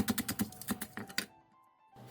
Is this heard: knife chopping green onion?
yes